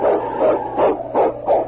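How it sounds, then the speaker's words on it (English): A husky lead dog in an old-time radio drama set in the snowy Yukon barks in four loud, evenly spaced barks, close and clear with no talking. "It's Yukon King, swiftest and strongest lead dog of the Northwest"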